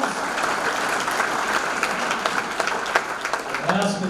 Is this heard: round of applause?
yes